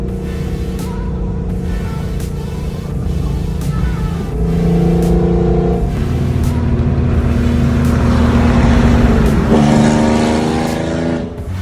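Infiniti G37 sedan with a single turbo, around 500 hp, idling and revving, heard up close as a steady rumbling drone with rising rev swells.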